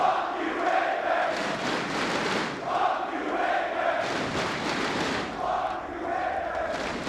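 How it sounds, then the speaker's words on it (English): Esports arena crowd at a Counter-Strike match chanting together in a steady, loud, rhythmic roar that swells and dips for several seconds, filling the space with no clear single voices. "And the crowd have adapted a new favorite chant."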